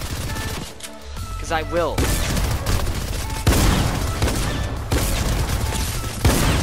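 Triple rapid-fire SMG shooting in Fortnite rattles out in loud, fast, repeated bursts of gunfire, with a brief spoken remark just before the shots start.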